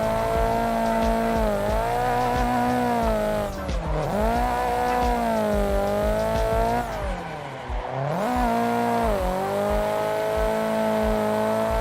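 Car lapping a race track in a video game, a car of 350-plus horsepower: a steady, loud engine drone that rises and falls with shifts and throttle, with brief dips into corners, continuous throughout.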